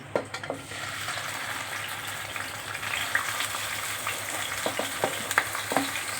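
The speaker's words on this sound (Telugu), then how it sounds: "ఉల్లిపాయ బాగా వేయించేసుకోవాలండి" Onions and green chilies frying in oil in a kadai on a stove, a steady close sizzle with occasional stirring clicks, with no talking over it.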